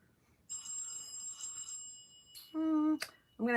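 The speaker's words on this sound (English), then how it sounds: "There's my hotspot ringing again." A mobile hotspot rings faintly in the background with a thin, repeating electronic tone, followed by a few louder tonal chirps near the end.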